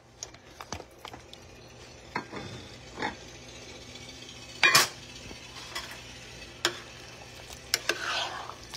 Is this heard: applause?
no